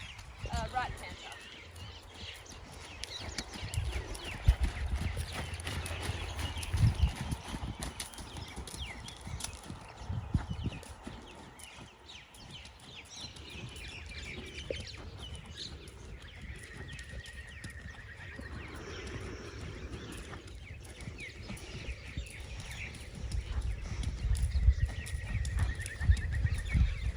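A horse named Montana canters on the right lead during flatwork at home, with soft rhythmic hoofbeats thudding near and far, occasional snorting and a rider speaking over the movement.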